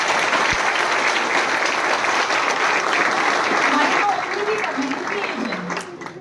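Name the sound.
audience applauding loudly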